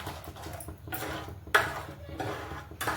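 Sweet potato kheer being stirred in a metal pot, a spoon scraping and clinking against the sides in a few irregular strokes, close and moderately loud, with no talk.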